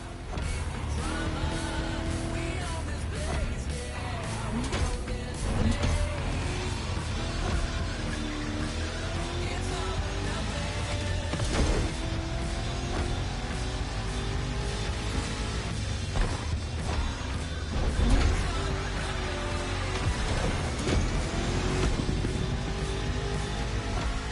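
Cars race on a street circuit in The Crew Motorfest, with engines droning and shifting pitch continuously, punctuated by occasional thumps and impacts throughout.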